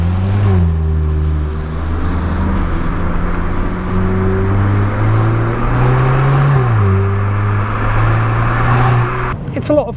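A VW Polo GTI engine drones loudly from inside the car, its pitch rising and falling through several revs and gear changes in a continuous, close roar.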